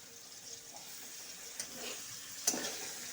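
Oil spatters and crackles faintly in a pan as already-fried pabda fish is stirred, with a low steady sizzle broken by two sharper pops.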